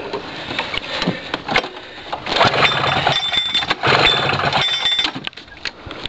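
A small gasoline engine fed from a bottle used as its fuel tank sputters and revs unevenly up close, surging louder as the throttle is pulled, with faint knocks and no speech.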